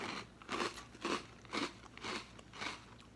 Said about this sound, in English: time to see me eat a bite